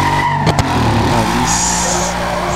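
Dodge Charger SRT Hellcat engine in the Need for Speed Most Wanted racing game, a loud steady V8 drone with a brief tire squeal partway through and a short high whine near the end.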